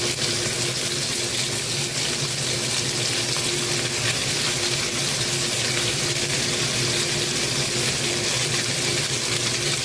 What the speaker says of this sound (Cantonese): 咁我哋將啲雞翼煎到金黃色，跟住就反轉再煎另外一邊